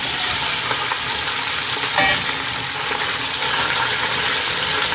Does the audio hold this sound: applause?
no